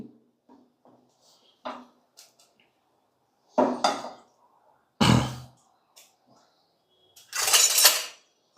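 A frying pan is set down on a stove for making a small-fish pickle, giving a few separate clattering metal knocks, one louder scrape-like clank near the end, with quiet gaps between and no talking.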